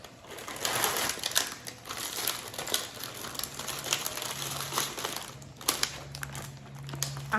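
Crinkly plastic zip bag handled up close, with steady rustling and crackling throughout, a few sharper crunches near the end, and no voices.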